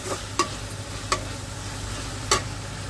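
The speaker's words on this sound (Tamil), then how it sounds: "இப்போ காய்கறிலாம் வந்து நல்லா வதங்கிட்டு இருக்கு" Vegetables with baby potatoes stirring in a hot pan with a steady low sizzle, broken by a few sharp scraping clicks of a utensil.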